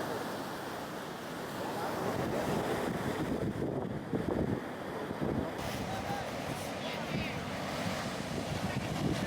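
Rough ocean surf rolls and crashes along the northern Peru coast where fishermen launch small totora reed boats, a continuous wash of waves mixed with heavy wind buffeting the microphone.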